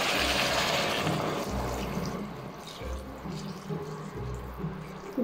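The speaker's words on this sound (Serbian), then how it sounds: "Sad ćemo sipati vodu da prekrije." Water poured from a container into a cooking pot over chunks of pumpkin and potatoes, a steady close gurgling splash that keeps running for several seconds with no talk.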